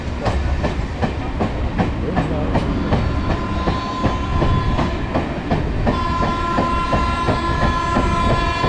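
An electric suburban local train rolls past on rails near Avadi railway station, Chennai, with rhythmic clickety-clack of wheels over joints and a steady mechanical hum, loud and close.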